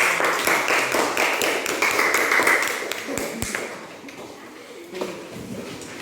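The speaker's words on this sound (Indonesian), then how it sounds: "tepuk tangan untuk kelompok 1" A classroom of fifth-grade pupils clapping for a student group, a dense run of many hands with faint voices underneath, fading out toward the end.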